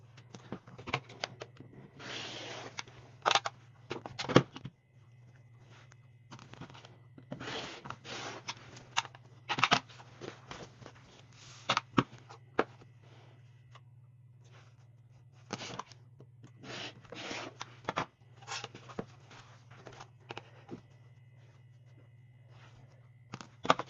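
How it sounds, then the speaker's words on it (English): Rotary cutter slicing quilting cotton into 5-inch width-of-fabric strips for a beginner four-patch quilt, heard as bursts of crisp scraping cuts and fabric handling over a steady low hum, with pauses between strips. "So we're going to cut 6 width of fabric by 5 inches."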